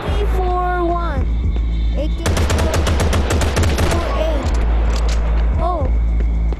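An AK rifle in a GTA-style gangster video game fires a rapid, loud automatic burst of about two seconds, set against a steady engine hum and rising whoops from the game.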